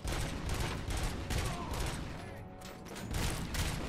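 Faint, rapid gunshots in RoboCop: Rogue City, a quick volley of repeated shots in bursts with a dip in the middle, quiet and somewhat distant-sounding.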